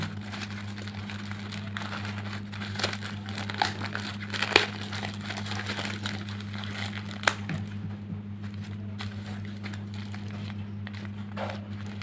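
A super long sanitary napkin pad being handled and unwrapped gives off soft, steady crinkling with a few sharper crackles, all at close range over a constant low hum, with no talking.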